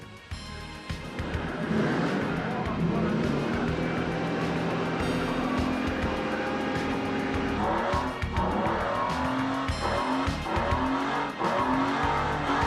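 A Lamborghini Diablo V12 engine is run in for break-in at the factory, producing a loud, steady engine roar with revving and squealing tones throughout.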